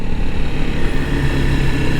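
A 2021 Honda CRF 300L Rally motorcycle engine drones steadily and loudly at close range, a low continuous rumble with no breaks and no talking over it.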